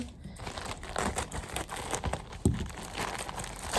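A cargo parcel is opened by hand, with close, busy crinkling and rustling of plastic and paper wrapping, irregular tearing and handling noises, and a sharper crackle partway through.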